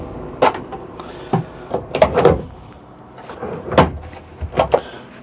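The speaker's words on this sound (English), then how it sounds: "A drawer." A drawer in the bathroom of a 2017 Holiday Rambler Admiral 26D RV is opened and closed, giving several short, close knocks and slides in quick clusters, with quiet pauses between them.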